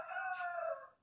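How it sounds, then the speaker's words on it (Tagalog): A rooster crows once, a single clear, close call lasting about a second, from free-roaming chickens outside a hut in the Philippine countryside. "May manok."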